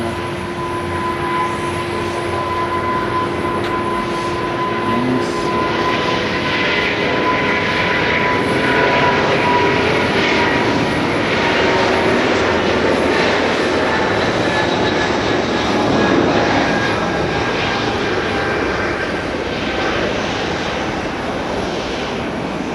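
Airliner engines roaring during a domestic takeoff at Haneda Airport in Tokyo, heard from the viewing gallery. The roar is a loud, continuous rumble with a steady whine, rising and falling gently throughout, with no talk.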